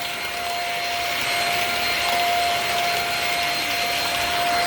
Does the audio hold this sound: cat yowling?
no